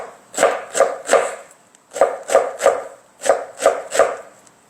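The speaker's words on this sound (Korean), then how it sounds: "잘라내서 얘를 그냥 송동송동이 아니라 잘게 다지세요" A knife finely mincing tree of heaven shoots on a cutting board: crisp, close chopping strokes in quick bursts of three, repeated in a steady rhythm with no voices.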